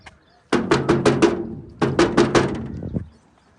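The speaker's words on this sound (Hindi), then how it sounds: "हम दस्तक देते हैं तो उम्मीद है कोई ना कोई यहाँ से निकलेगा" Knuckles rapping on a small house door, two separate bursts of about five quick, loud, close knocks each, the second burst ending with a couple of softer taps.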